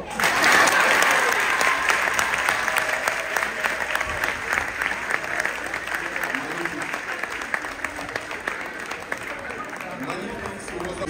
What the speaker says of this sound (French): Donc, un bonus d'applaudissements le ferait encore bien.